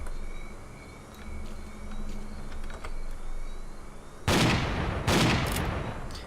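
Gunfire in the S.T.A.L.K.E.R. Clear Sky video game, likely shotgun blasts: two loud, broadband bursts near the end, following quieter clicking and background noise.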